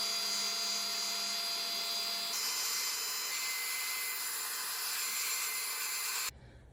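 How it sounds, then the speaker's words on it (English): A hairdryer blows steadily on acrylic or wool yarn, a close, even whirring hiss that shifts pitch slightly partway through, then cuts off abruptly near the end. "So we're gonna use the hairdryer."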